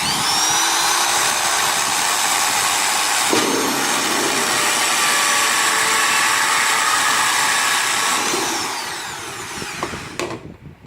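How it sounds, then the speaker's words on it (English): A power drill whines steadily and loudly through plastic for a hydroponic bucket system for about nine seconds, briefly changing pitch midway, then spins down and stops. "Place your middle part of the drill at the marking, right, and go straight down."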